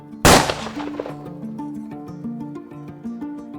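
A single sharp gunshot in DayZ cracks loud and close, its ringing tail fading over a second while a slow, low melodic music line carries on underneath.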